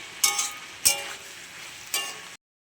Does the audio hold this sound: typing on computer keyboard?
no